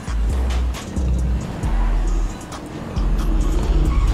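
A car drives in GTA 5, its engine droning in repeated surges with low rumbling bursts separated by brief dips, close and fairly loud over a background of game noise.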